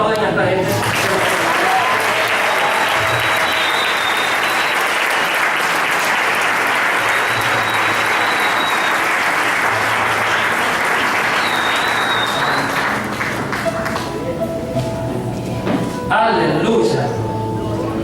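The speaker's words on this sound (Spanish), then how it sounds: "¿Cuántos aplauden a esta gente?" A church congregation applauds during a sermon, producing loud, sustained clapping that carries on for many seconds and trails off near the end, with some voices mixed in.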